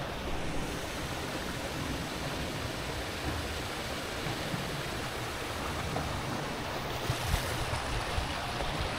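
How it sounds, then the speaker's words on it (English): A garden waterfall pours in a steady, broadband rushing wash, heard up close and fairly loud for the full stretch with no voices over it. "And there we have even a waterfall."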